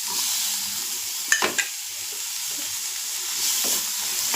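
Tomatoes frying in a pan give a continuous bright sizzle, with a few sharp clicks from stirring around the middle and a swell of hissing near the end.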